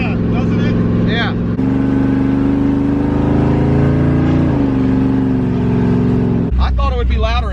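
Steady engine and road drone heard from inside a moving car on a drive, with people talking over the hum throughout.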